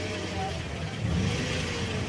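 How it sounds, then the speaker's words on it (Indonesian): A car engine idles smoothly, then gets a light blip of throttle, a low steady hum rising slightly in the middle, heard up close while someone talks over it. "Kita coba gas sedikit."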